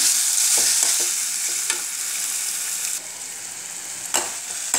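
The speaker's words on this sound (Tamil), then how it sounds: "அதை போட்டுருவோம் மாங்காய் வந்து நல்லா வதங்கட்டும்" Raw mango pieces sautéing in hot oil for a sweet pickle, giving a steady bright sizzle with a few scraping stirs, close and alone.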